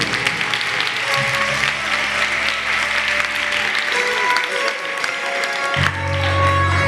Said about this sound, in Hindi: अब यीशु मसीह के लिए जोरदार तालियां बजाओ।